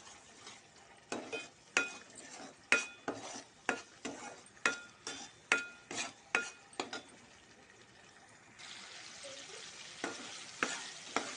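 Pureed tomato frying in a pan, with a spoon or spatula scraping and tapping in a quick series of sharp strokes, then a softer, steady sizzle at the end.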